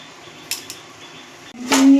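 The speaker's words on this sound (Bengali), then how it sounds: "এবার এটাকে আমি ঢাকা দিয়ে দেবো" A metal lid set on a pot of egg korma on the stove: a couple of light taps, then a louder clanking contact with a brief ringing tone as the lid settles.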